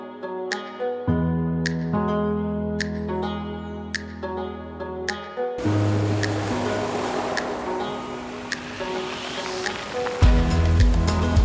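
Sea waves at Paleokastritsa on Corfu wash in a steady broadband roar, partly masked by tonal music that plays throughout, with no speech.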